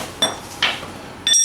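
Metal axle spacer from a Banshee being handled and set down, giving three short metallic clinks close by, the last one ringing briefly.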